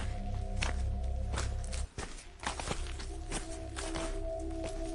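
Slow, deliberate footsteps crunch over gravel and leaves outside a cabin at night, a series of distinct close steps with a brief pause midway.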